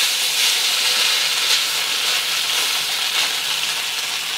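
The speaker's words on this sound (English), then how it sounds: "We're just gonna fry up our noodles a little bit." Noodles fry in a hot pan, giving a steady loud sizzling hiss that continues without pause.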